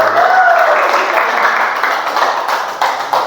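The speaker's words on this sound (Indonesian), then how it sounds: "biasanya tepuk tangan" Clapping from an audience at a school presentation, a steady wash of hands across the whole stretch with some voices mixed in, moderately loud and continuous.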